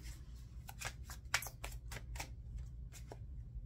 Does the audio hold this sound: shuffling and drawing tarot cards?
yes